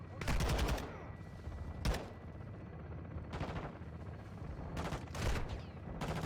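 Bursts of gunfire in Call of Duty: Modern Warfare 2 hit the player in several loud rattling volleys. Quieter game noise and a faint voice fill the gaps between the bursts.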